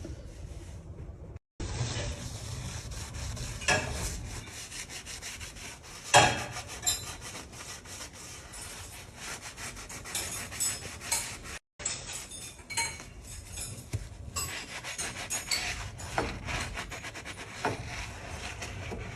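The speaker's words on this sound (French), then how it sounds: "je vais en mettre un petit peu sur mon éponge et je vais nettoyer tout ce gras" A sponge with concentrated degreaser scrubs greasy grime in steady back-and-forth rubbing strokes, close and fairly loud, with occasional knocks and clinks and two brief dropouts.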